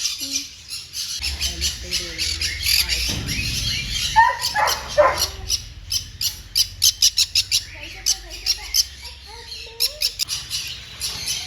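A cockatiel squawks and chirps in loud, rapid bursts, close by, with a brief low rumble and a few faint voices in between.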